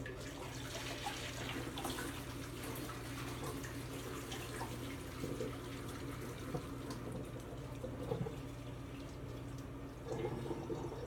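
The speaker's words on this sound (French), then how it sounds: "je vais aller juste égoutter mes pâtes" Water poured off cooked pasta into a sink while draining it for a vegan chili cashew rosé sauce dish, a steady continuous rush and splash running for the whole stretch, close and moderately loud with no voices.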